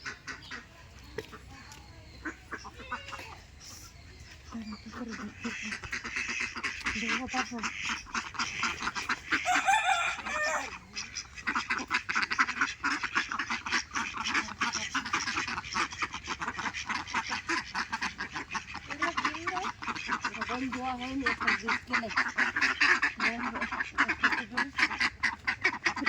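Ducks quack and poultry calls sound repeatedly across a noisy rural yard, with a rooster crowing now and then. A few faint voices can be heard in the background.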